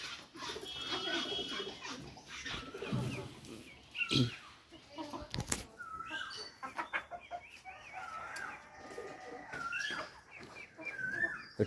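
Pigeons on a farm coo and call in throaty bursts and warbles, close by and mixed with someone talking over them, along with some rustling and fluttering.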